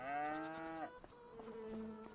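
Cows in the video game Farming Simulator 25 moo close up and clearly. One long, drawn-out moo is followed by a lower, shorter one, with no talking over them.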